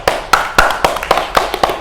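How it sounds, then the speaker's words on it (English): Hand clapping, seven sharp claps in a steady quick rhythm, close and alone. "I just did clap"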